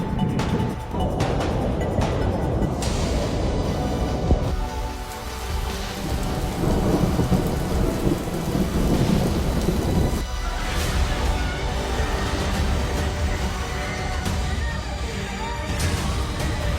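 A heavy West Coast storm: rain pours steadily and loudly throughout, and rumbling thunder rolls and cracks on and off over the constant downpour.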